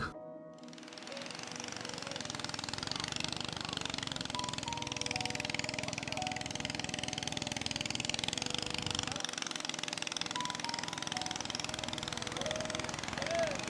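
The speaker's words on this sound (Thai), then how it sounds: "เสียงที่ทุกคนได้ยินอยู่นั้น เป็นเสียงเครื่องเรือ ที่ดังสวนกันในท้องทะเลช่วงมรสุม" A steady, loud mechanical drone of boat engines passing each other at sea during the monsoon season runs continuously throughout, rough and throbbing, with no breaks and no voices.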